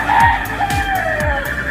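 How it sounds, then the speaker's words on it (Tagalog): Frogs croak loudly and close by, giving a run of about four low, rhythmic calls over a steady high-pitched chirring background. "It's a frog. Frogs."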